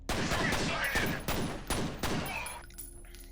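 Gunfire from the video game F.E.A.R. rattles in rapid successive bursts, roughly five loud sharp cracks over three seconds before fading, with a faint voice underneath.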